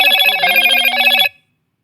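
A phone rings with an incoming call in a home kitchen, a loud, close electronic ringtone with steady repeating tones that cuts off abruptly after just over a second, leaving silence.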